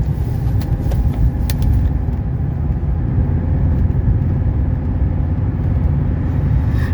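A 1982 Mercedes 300SD diesel sedan with about 64,000 miles on a road drive, a loud steady low engine drone and road rumble filling the cabin throughout, no talking.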